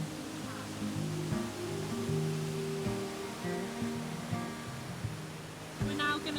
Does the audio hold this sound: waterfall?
yes